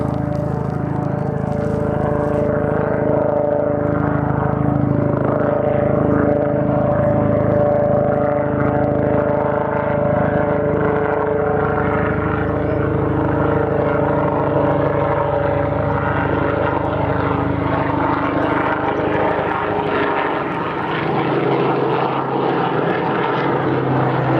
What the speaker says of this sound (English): that damn helicopter's annoying me